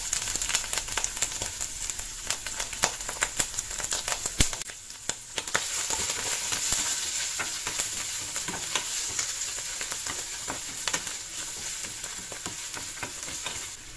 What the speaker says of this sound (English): Just about a minute or 2 of frying that and we will add the spaghetti.